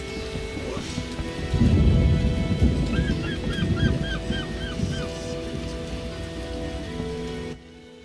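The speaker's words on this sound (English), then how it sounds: "It's rain." Rain falls steadily in The Witcher video game near a swamp, with a deep rolling rumble of thunder swelling and fading beneath it, while honking bird calls sound in a short series over the downpour.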